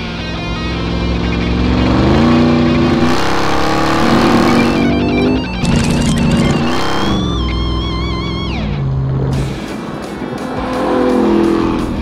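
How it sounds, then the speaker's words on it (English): A 2021 Ram 1500 TRX with a 6.2-liter supercharged V8 revs hard off-road, rising and falling through repeated bursts with a supercharger whine and brief tire squeal, loud and close, with no talking. "That sound right there, that is 702 horsepower in a truck."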